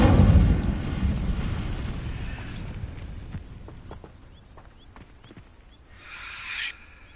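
A loud, close burst of magical fire from the Incendio spell in the Harry Potter Legacy video game, igniting dry vines. It flares at the start, then slowly fades to a crackling, rumbling tail, with a second short flare near the end.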